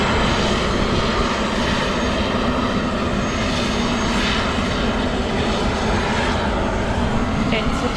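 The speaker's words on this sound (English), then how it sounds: "It's a chopper." A helicopter that has just landed on a platform near Milford Sound, New Zealand, gives off a loud, continuous engine and rotor roar, close and steady throughout.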